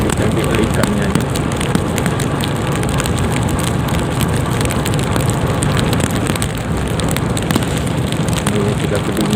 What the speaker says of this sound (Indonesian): Nah, di sini sudah diguyur hujan.